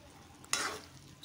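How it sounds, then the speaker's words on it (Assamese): A spoon is drawn through jujube pickle frying in a pan over a medium gas flame, making one brief scraping, sizzling swish against a quiet background. "এতিয়া ভালকৈ এবাৰ লৰাই দিছো।"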